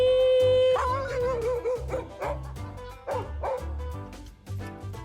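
Belgian Malinois barking and yipping up close, several sharp loud barks in a ragged rhythm mixed with whiny yelps, with no talking.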